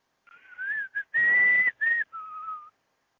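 A voice imitating eerie, wavering whistling, a few short and long pitched phrases with gaps between them, close and clear against silence.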